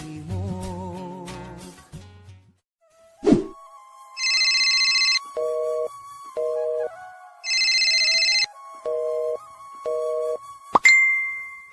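A telephone rings with a repeating electronic tone, bursts of bright trilling alternating with lower beeps in a steady pattern, preceded by a short melodic jingle and a sharp clunk, with no talking.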